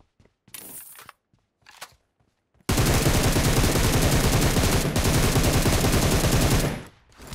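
Sustained automatic gunfire in the mobile battle-royale game PUBG Mobile, a loud rapid burst running several seconds after a few quieter scattered shots, close and without talk.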